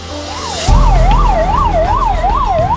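An ambulance siren wails in a steady rising-and-falling cycle, loud and close, with heavy low traffic rumble from the emergency vehicle kicking in a moment after it starts.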